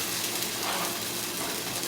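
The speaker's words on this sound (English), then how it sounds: "Nice little sizzle." Cod fish fritter batter sizzles steadily in a hot skillet, a close, dense hiss that holds even and unbroken for about two seconds.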